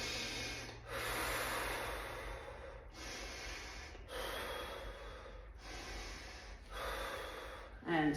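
Several slow nasal inhalations during a seated stretching routine, each a long airy rush of breath separated by short pauses, close to the microphone with a faint steady background hum.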